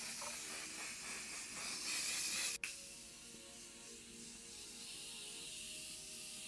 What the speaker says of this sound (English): I'm gonna go ahead and set using two of my favorite setting sprays right now